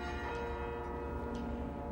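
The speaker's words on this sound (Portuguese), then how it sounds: "ela tem 17 anos, é Sara Rosa Elias, entusiasmou-se pelos carrilhões e, como vê, já vai tocando," Carillon bells ring at the Mafra convent in Portugal, a dense cluster of sustained, overlapping bell tones that hum evenly and fairly softly without a break.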